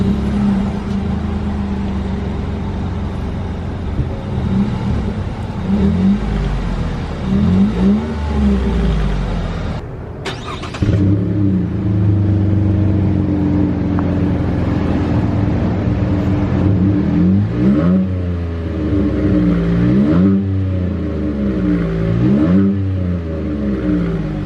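A V6 Chevy Colorado engine with the stock exhaust and its resonator deleted revs repeatedly, a loud, steady rumble that rises and falls in pitch, with a brief drop-out midway and no talking.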